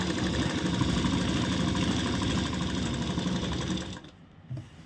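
A sewing machine runs steadily while double-stitching a salwar, its loud rapid whirring continuing for about four seconds before it stops and leaves only faint rustling of fabric.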